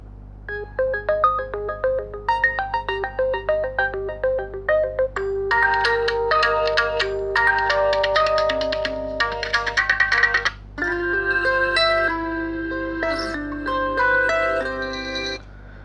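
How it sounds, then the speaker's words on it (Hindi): An Oppo Reno 2F phone ringtone plays from its single speaker as a bright electronic melody, first in short repeated notes, then in fuller, sustained phrases, loud and clear over a low hum. "हम चेक कर लेते हैं कुछ रिंगटोन को चला के"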